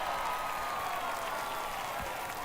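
Ballpark crowd at an MLB game roars and applauds after a home run, a dense, steady wall of cheering and clapping sustained throughout.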